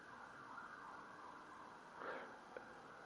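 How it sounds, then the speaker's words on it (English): Several emergency sirens pass outside a house, faint and muffled as if heard through walls, with a steady wailing tone that swells briefly before a small click. "There's several sirens coming outside my house here,"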